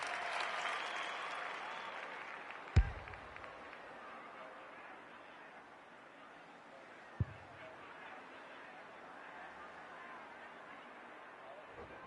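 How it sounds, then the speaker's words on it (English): Crowd at an AFL football match in the video game AFL26, a steady roar and applause from a large stadium audience, with two sharp thumps and a commentator talking over the top. "The crowd noise tells you all you need to know."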